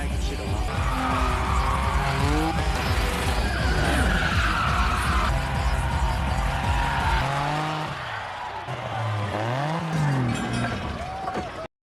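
Drift race cars slide through a multi-level parking garage in a Tokyo Drift film scene, with loud wavering tire squeals over roaring engines in a continuous, dense stretch that fades out abruptly at the end.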